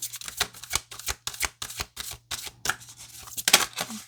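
Tarot cards are shuffled by hand in a series of crisp, papery riffles and flicks, close and fairly loud, in irregular bursts with no talking.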